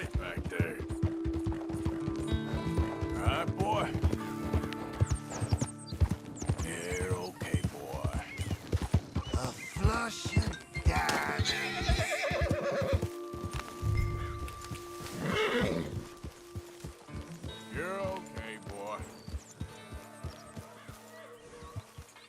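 A horse in the video game Red Dead Redemption 2 whinnies and snorts amid clopping hooves, layered over busy in-game sounds with occasional voices.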